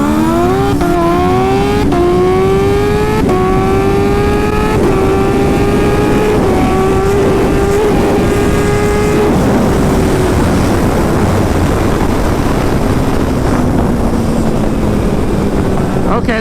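A Kawasaki Ninja H2 motorcycle accelerates hard from a launch, its engine note climbing through several gear changes, loud and close at first, then receding into a fading, rushing drone.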